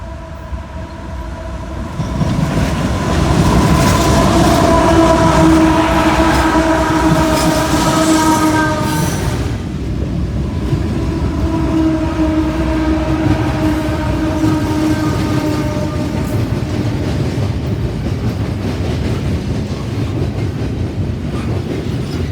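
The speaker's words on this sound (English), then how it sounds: "While the train was approaching, we heard a horn from another train." A freight train passes loudly and close near a railroad diamond with a CSX intermodal, steady rumbling and rail clatter throughout while a distant horn from another train sounds in long sustained blasts, fading and returning.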